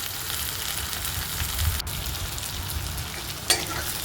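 Fried pointed gourd being stirred in a frying pan with fried prawns, a steady soft sizzle with occasional scrapes and a sharp clink near the end, close and fairly quiet.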